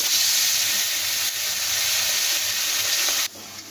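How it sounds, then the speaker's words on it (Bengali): Small puti fish rubbed with salt and turmeric fry in hot oil, giving a loud, steady, close sizzle that holds for several seconds and then drops off sharply near the end. "এখানে মাছগুলোতে নুন হলুদ মাখিয়ে নিয়েছি, আর এখন হলো ভাজা করবো"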